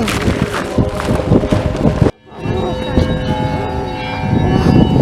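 Church bells ring outdoors for an Epiphany procession in Syktyvkar, Komi, with a busy crowd murmuring and moving nearby; a brief hush interrupts before the steady ringing and chatter return.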